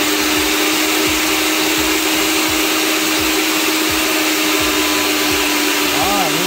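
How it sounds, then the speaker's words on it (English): A pipe threading machine cuts threads onto gas pipe with a die, producing a loud, constant motor whir with a steady tone and repeating rhythmic knocks underneath, close and continuous. "Now, we are gonna go ahead and thread this gas pipe."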